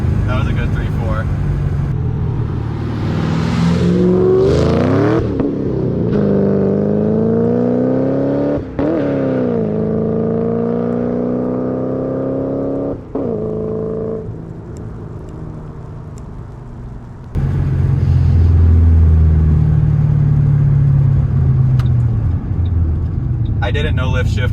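A modified Ford Mustang roars loudly and close as it accelerates hard through the gears, engine pitch climbing and dropping at each shift, with brief gaps between pulls and people talking over it.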